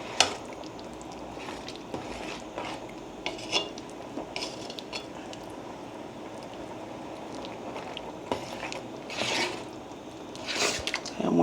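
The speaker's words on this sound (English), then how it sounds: "And this is her chili. Letting it cook down." Homemade Cajun chili simmering in a pot on the stove, with scattered clinks of a spoon and cookware against the pot over a low steady bubbling, close up.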